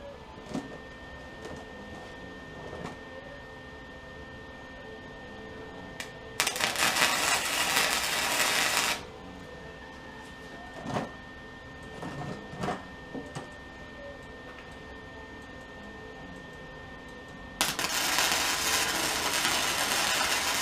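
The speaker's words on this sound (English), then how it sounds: "now we're going to take our 2 pieces and weld them together," Welding two steel pieces together into an L shape: two sustained bursts of harsh crackling hiss, each a few seconds long, separated by quiet stretches with faint clicks and handling noises.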